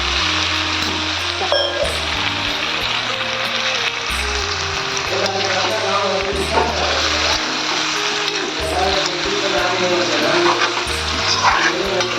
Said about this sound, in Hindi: थोड़ा से और पानी डालते हैं।